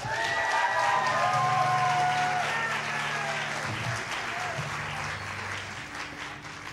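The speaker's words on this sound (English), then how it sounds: "have a nice round of applause for Mr." Audience applause for a guitarist at a concert, loud clapping with some cheers that swells at once and then slowly fades, sustained for several seconds.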